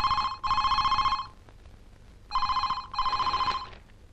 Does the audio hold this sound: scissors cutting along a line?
no